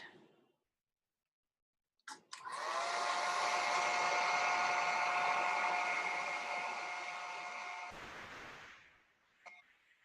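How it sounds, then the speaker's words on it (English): Hair dryer blowing on wet paint on a hand-painted Christmas ornament, switching on with a click and whirring as a steady, loud, close drone for about six seconds, then cutting off with a click. "So blow dry that."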